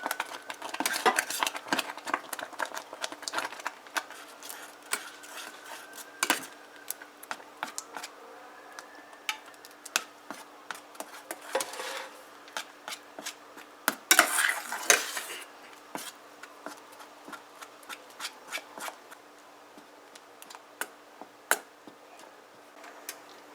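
Plantain porridge gets stirred in a pot, with a spoon clinking and scraping against the pot sides in irregular bursts of light metallic taps, close and fairly quiet, with no talk.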